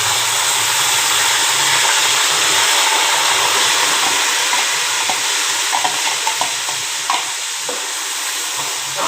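Onion masala frying in a pan for rice and potatoes, with a steady loud sizzle throughout and scattered scraping clicks from stirring, no voices.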